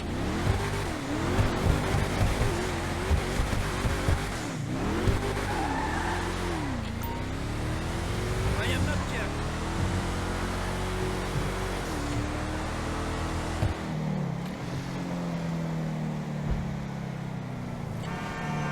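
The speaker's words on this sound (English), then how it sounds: "The Jubilee is a pretty good sounding SUV." Enus Jubilee SUV engine in GTA Online revving and droning loudly and continuously, with pitch rising and falling through gear shifts and a brief horn toot, alone without talk.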